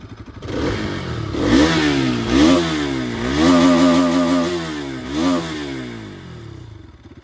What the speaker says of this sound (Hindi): अब मैं आपको रेव करके सुनाता हूँ थोड़ा।